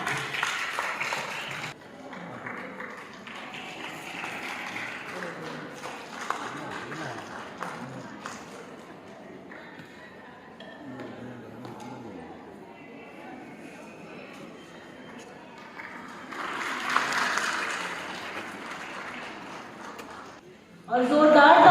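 Broadband clapping from a crowd rises mid-clip and again at the end, with a voice speaking over much of it.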